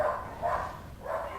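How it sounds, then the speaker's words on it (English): Several dogs barking in bursts from indoors, roughly three clustered volleys at moderate distance, set off by a leaf outside, with a low steady hum underneath. "goddamn dogs"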